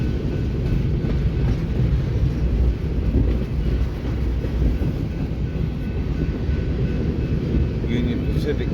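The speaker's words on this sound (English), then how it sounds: "this train's heading north on the BNSF Sioux City sub" A northbound BNSF train on the Sioux City subdivision in Fremont rumbles past close by, a steady, loud low roar of wheels and rail cars continuing without a break throughout.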